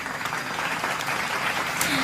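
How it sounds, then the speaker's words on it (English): Applause from a group of colleagues at a bookstore sales meeting, a steady dense wash of clapping lasting a couple of seconds with some voices mixed in. "Applause for ourselves."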